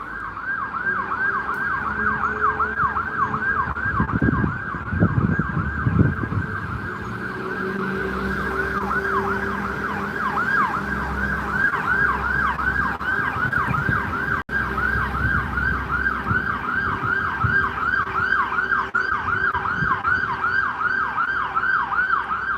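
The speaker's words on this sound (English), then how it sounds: "That's just an ambulance trying to fight through traffic." A wailing ambulance siren cycles steadily up and down for the whole stretch, with the low rumble of road traffic beneath it, in Gloucester.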